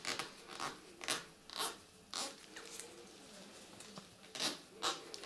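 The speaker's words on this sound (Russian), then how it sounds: "Если джелиш просох, он скрипит." Dried Gelish gel nail coating being filed gives a run of faint, close scratchy squeaks and crunches, in short irregular bursts about every half second to second.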